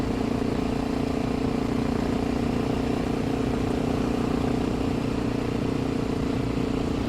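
Steady, droning engine of a Honda XR650L motorcycle heard while riding, a constant mid-pitched hum with wind rumble that holds evenly throughout, close and unbroken, with no voices.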